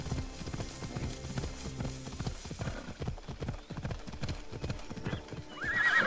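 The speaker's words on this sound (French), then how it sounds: "je veux monter sur mon cheval" Horse hooves in a video game: a steady, close clip-clop rhythm of a riding horse with a whinny near the end, under faint ambient game sound.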